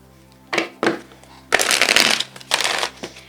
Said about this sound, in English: So I'm going to shuffle this 2 more times.